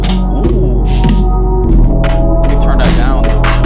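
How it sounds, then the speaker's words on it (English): A hip-hop beat built in FL Studio runs through an Output distortion plugin, giving a loud, dense, continuous gritty mix with a steady low end and repeated rhythmic hits. "This is like a distortion plugin."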